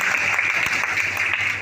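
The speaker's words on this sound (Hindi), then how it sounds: "इनके लिए तालियां बजाइए लोग।" Audience at a teacher-training workshop applauding, a dense, loud, continuous burst of clapping close by.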